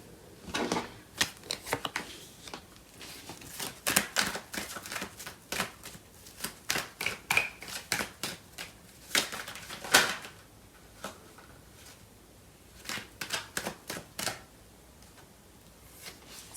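Tarot cards shuffled by hand in quiet surroundings, heard as repeated bursts of close, crisp papery riffling separated by short pauses, with a longer gap before a final flurry.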